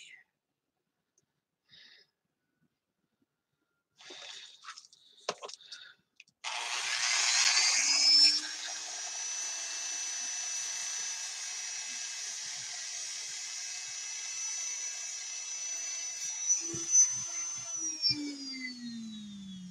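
A power tool grinds down a part for a homemade blaster, with a few faint clicks and handling noises first, then a steady, close, high-pitched whine running unbroken for about eleven seconds before tapering.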